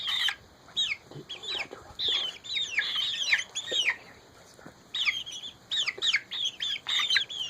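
Chickens in a farm pen shared with ducks give repeated bright clucks and chirpy calls in quick irregular bursts, close and fairly loud, with only a little background noise.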